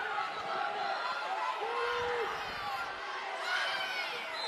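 Spectators at a high school state wrestling tournament make a rising and falling roar of cheers and shouts, with a sustained yell in the middle, while voices talk nearby.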